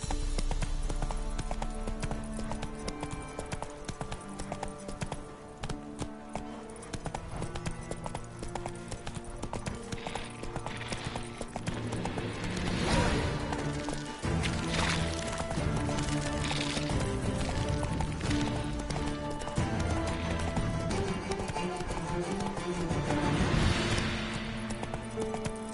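Horse galloping in The Witcher 3: Wild Hunt, a steady fast drumming of hooves over ground that lasts throughout, mixed with game music and rushing movement noise, and occasional faint voices.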